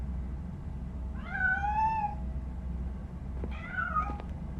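A cat in the video game Robocop Rogue City meows twice: a longer, clear mew followed a couple of seconds later by a shorter one, heard alone over a steady low background hum.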